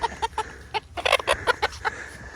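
A small white hen clucks in agitated bursts while being chased around a wet farmyard, with about a dozen sharp, close clucks and squawks arriving in quick succession.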